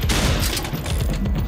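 Rapid gunfire from the Pixel Gun 3D shooter game, a dense continuous burst of loud shots filling the whole short stretch without any talking.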